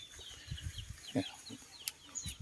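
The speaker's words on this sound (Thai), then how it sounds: "ไก่ก็หลายหลาย" Chickens clucking near a farm fish pond, low, rapid clucks mixed with a few higher bird calls, moderately close against outdoor background noise.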